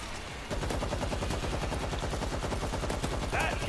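Rapid automatic gunfire from the World War Z video game, a dense continuous burst of shots with a muffled voice under it.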